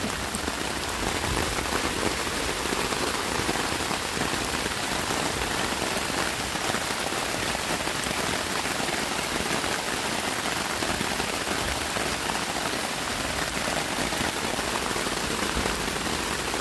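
Steady heavy rain patters on a taut surface overhead, a constant dense drumming with no pauses throughout.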